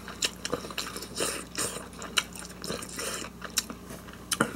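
Someone eats firm boiled noodles sprinkled with grated parmesan cheese, making close, quiet chewing and biting sounds in an irregular rhythm with soft wet smacks.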